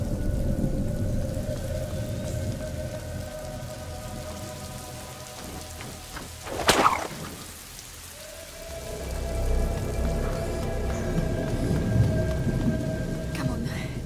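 Steady rain pours down throughout a stormy scene in the medieval-set game A Plague Tale: Innocence, with a sharp thunderclap cracking near the middle before the downpour swells again.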